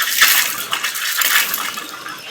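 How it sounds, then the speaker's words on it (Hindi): Water gushes from a supply pipe after a valve is opened, a continuous loud hissing splash with irregular spurts, close by and without talk. "और ये देखें पानी आ गया है"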